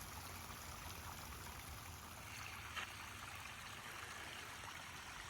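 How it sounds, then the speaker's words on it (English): A steady, faint rush of flowing water continues throughout, soft and even with no voices. "The sound of the water, absolutely beautiful"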